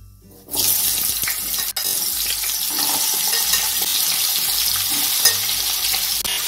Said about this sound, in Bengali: ফোড়নটা একটু ভাজা হয়ে গেলে কেটে ধুয়ে রাখা ওলগুলো দিয়ে দেবো